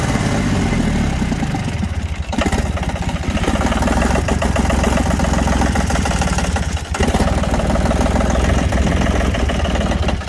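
An old Ditch Witch 3700 diesel trencher engine running, a loud, close, continuous rough chugging rumble with clattering throughout.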